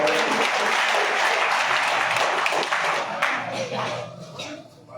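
A crowd applauds the chief guest at a BJP social justice week programme in Sitamarhi, Bihar. Loud, dense clapping holds steady at first, then thins and tapers toward the end.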